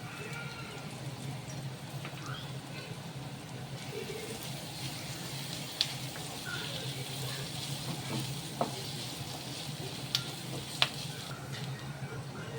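Onions frying in a pan with turmeric and ginger-garlic paste, stirred; a steady soft sizzle runs throughout with occasional light scrapes and clicks of a utensil.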